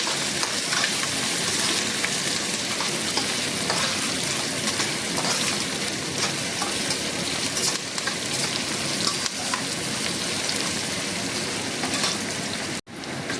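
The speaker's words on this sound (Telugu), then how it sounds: "ఇవన్నీ చక్కగా వేసుకొని కలుపుకోవాలి, ఫ్రై చేసుకోవాలి వీటిని." Onions sizzle and crackle in a hot pan for tomato poha, a loud, dense, continuous frying hiss with occasional stirring scrapes, ending in a brief clatter.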